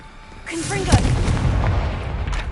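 A Confringo explosive spell cast in Hogwarts Legacy, a deep booming blast with a rumbling tail that carries on for a couple of seconds, loud and close, with a brief spoken voice over the start of the burst.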